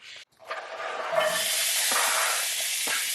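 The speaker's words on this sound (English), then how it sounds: "Alright, so onion is diced. I'm going to pop it right into our pan." A diced sweet Vidalia onion drops into a hot pan and bursts into a loud, steady sizzle that holds close and bright for a few seconds.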